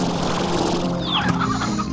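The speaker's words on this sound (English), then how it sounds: "Oh, there was some chicken too." Chickens clucking in the video game Slime Rancher: loud, close, repeated short clucks and squawks over a steady game-audio background, with no talk.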